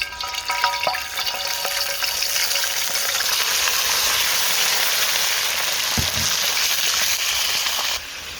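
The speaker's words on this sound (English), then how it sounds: "first of all, we need to brown our meat off" Diced lamb browning in a hot pan for an Indian lamb salaan, giving a loud, steady sizzle and crackle that runs throughout, with a few light clinks of utensils near the start and a brief knock near the end.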